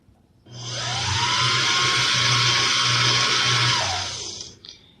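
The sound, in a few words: sewing machine winding a bobbin, pedal pressed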